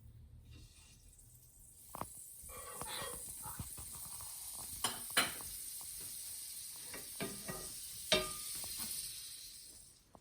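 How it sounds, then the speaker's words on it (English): Butter sizzling in a crepe pan on a stove at medium-high heat: a steady soft frying hiss with scattered clicks and knocks of the pan and utensils, fairly quiet and close. "now we're going to put a little bit of butter on the pan"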